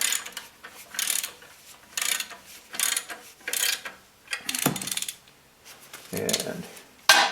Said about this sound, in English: I've got the belt back plate bolts back in, and just tighten them down